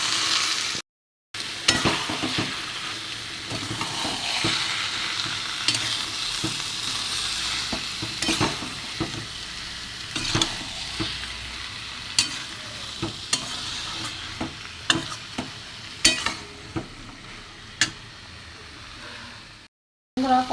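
Minced meat stir-fried in a pan with boiled peas and potatoes for a Bengali ghugni, steady sizzling under repeated scraping and stirring strokes, close and continuous with no talking.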